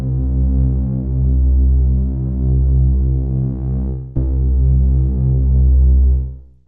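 A Moog-style synth plugin with an LFO routed to oscillator 1 level, sustaining a loud, rich low drone that throbs and pulses steadily, with a brief dropout midway before fading at the end.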